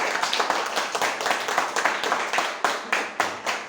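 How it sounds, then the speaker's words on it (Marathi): Loud, rapid hand clapping from a small group rolls on continuously, with sharp, close-up claps in quick succession and no talk. "जोरदार टाळ्या होते"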